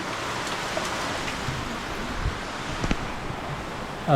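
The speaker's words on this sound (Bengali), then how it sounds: "দেখতে পাচ্ছ বৃষ্টি হচ্ছে কন্টিনিউ" Steady rain falling outdoors, a constant soft wash of drops with a few scattered louder patters, heard alone without talk.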